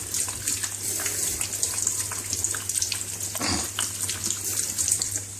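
Water runs steadily from a tap while hands are washed after cutting onion. A continuous close splashing rush is broken by brief louder spatters partway through, with a faint voice low in the background.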